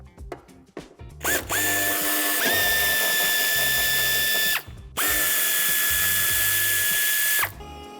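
A power screwdriver whines at high speed while removing a screw from the lower bumper of a 2016-onward Toyota Proace II van. Two long, steady bursts are separated by a brief pause, with a few ratcheting clicks before the first, loud and close.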